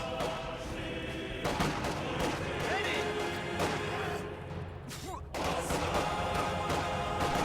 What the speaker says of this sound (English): Another rifle grenade going out.